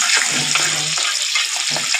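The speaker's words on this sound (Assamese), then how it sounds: "কেৰাহীখন পাতি তাতে পিঁয়াজ দিলোঁ, কেইটামান পাঁচফোৰণ, শুকান জলকীয়া ভাজিছোঁ" Onion, panch phoron and dried chillies frying in a wok, a steady close crackling hiss with faint stirring scrapes, heard without talk.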